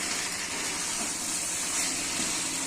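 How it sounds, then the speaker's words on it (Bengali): Potatoes and pointed gourd with two green chilies sauté in a pan for a Bengali aloo potol dish, giving a loud, steady, broadband sizzle and hiss that holds without a break and has no speech over it. "আর আলু পটলগুলো দিয়ে এখন কষাচ্ছি।"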